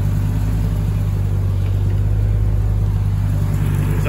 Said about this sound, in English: We'll get under the hood so I can rev it.